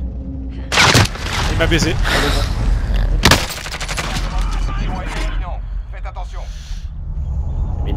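Gunfire in a French-played online battle royale shooter, two sharp loud bursts among steadier background shooting, under constant excited talk from players.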